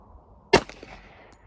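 A single sharp shot from a budget 1911 .45 ACP pistol firing a Sierra 230 grain hollow point, a loud close crack followed by a short outdoor echo and quiet afterward.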